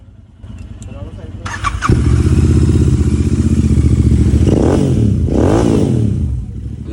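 A rental motorcycle in Dubai cranks and fires up, then settles into a loud, close, throbbing idle with a couple of throttle blips rising and falling; speech is heard nearby.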